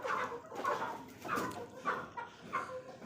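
Fighter chickens cluck repeatedly, several short loud bursts in an uneven rhythm, close and clear with little background noise.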